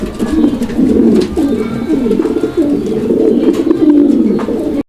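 Pigeons coo continuously close by, low rolling throaty calls overlapping in a steady rhythm.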